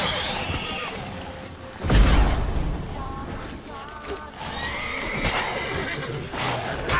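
Roach, the horse in The Witcher 3, gives a loud neigh with a sharp thump near the start, followed by further whinnies and some hoof and gear noise, close and clear.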